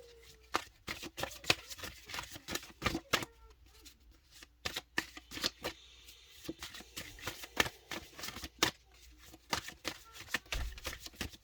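Oracle cards being shuffled by hand during a reading, a close run of soft, rapid riffling and slapping bursts with brief pauses between them.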